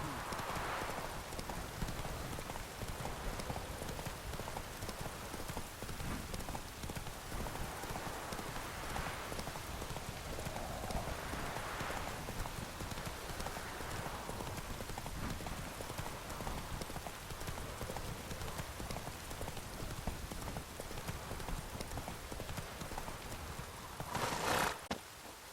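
Geralt's horse Roach trotting through rain in The Witcher 3, a continuous even clip-clop of hooves beneath a steady hiss of falling rain, with a brief spoken line near the end.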